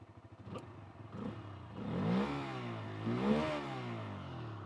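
Bajaj Freedom 125 motorcycle running on CNG, idling with a steady putter before two rising revs that swell and fall back, close and fairly loud with no talking.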